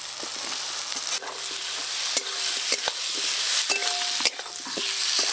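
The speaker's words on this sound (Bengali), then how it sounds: "মশলার সঙ্গে আলুও বেশ ভালো করে কষে নিয়েছি" Potatoes sautéed with spices in a pan for a Bengali vegetarian papad curry, giving a steady close sizzle broken by scraping stirs and a few sharp clinks of the spoon against the pan.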